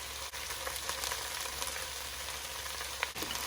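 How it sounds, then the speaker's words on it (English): Garlic hitting onions already cooking in a pan, giving a steady, moderate sizzle and crackle throughout with a couple of brief clicks, no one talking. "Let's go ahead and add in the garlic"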